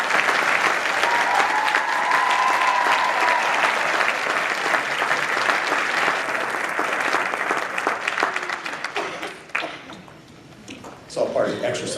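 An audience applauds nursing faculty and staff at a college nursing celebration, with sustained clapping that fills the room, then tapers off and fades near the end.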